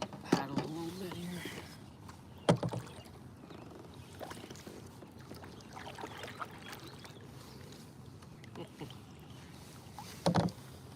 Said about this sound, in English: Paddle a little bit here.